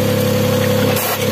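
A Daihatsu Xenia 1.0 car engine idles steadily up close, a constant low hum with a brief dip near the end and no talk.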